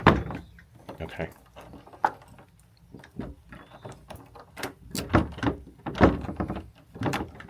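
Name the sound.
cabin door being opened with a big key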